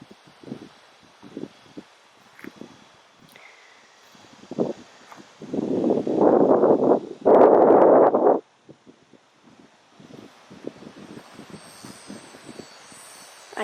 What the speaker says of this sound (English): It's windy today, as you can probably tell.